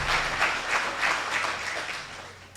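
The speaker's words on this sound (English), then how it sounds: "So please give them a round of applause for supporting the chamber all year round." An audience at a Walnut Creek chamber of commerce event applauds supporting companies, giving a dense, sustained roar of clapping that swells and eases slightly across its short length, with no talk over it.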